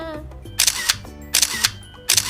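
A camera shutter snaps three times at a steady pace while photos are taken at an indoor exhibition with a blue mosque display, each click sharp and close above a low background murmur.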